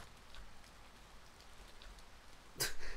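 Rain in the video game Finding Paradise falls as a quiet, steady patter with scattered faint drops, and a short sharp louder burst comes near the end.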